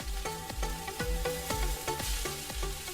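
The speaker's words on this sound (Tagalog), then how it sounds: "Igigisa ang bawang, sibuyas at kamatis." Garlic, onion and tomato sautéing in a pan for Filipino bopis of pork innards, with a steady close sizzle broken by regular rhythmic stirring knocks of the spoon against the pan.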